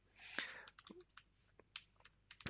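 Soft, irregular key clicks from typing on a computer keyboard, close but quiet, in short scattered taps with no voice.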